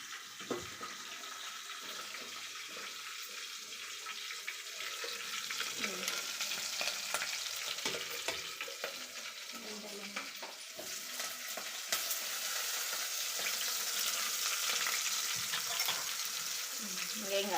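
Spices sizzle and crackle steadily in hot oil, a dense continuous frying hiss with scattered pops and no talking.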